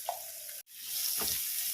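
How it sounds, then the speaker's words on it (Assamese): Bay leaves and garlic-ginger paste sizzle in hot oil in a pan, with dried red chillies added, for an Assamese taro curry; a steady close frying hiss is broken by a brief pause and a soft stirring clink. "কেইটামান তেজপাত, অকণমান নহৰু আদা বটা, ভাজি ল'ম"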